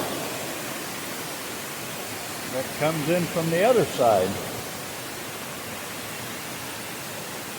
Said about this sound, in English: this waterfall here that we're standing on top of goes way down over to there